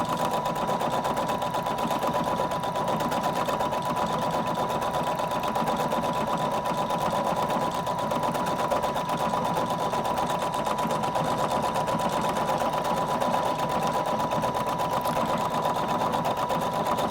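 A Husqvarna Viking Designer Brilliance 80 sewing machine stitching out a programmed decorative pattern on fabric, a steady, continuous rapid mechanical whir and needle chatter running unbroken and close throughout.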